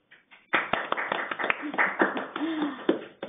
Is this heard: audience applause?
yes